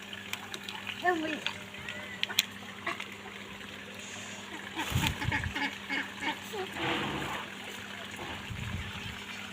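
Ducks and chickens splash and call in muddy floodwater beside a road, with faint quacks and water sloshing under a person talking nearby.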